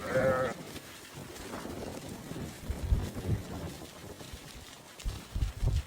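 A sheep bleats near the start, followed by windy outdoor noise and low rustling, with more faint animal sounds later.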